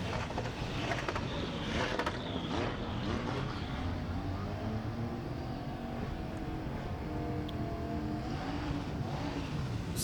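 A drift car at Rockingham in British Drift Championship pro qualifying makes a full-throttle transition with a big clutch kick, giving a steady, loud engine roar with shifting pitch and crowd and track noise blended in.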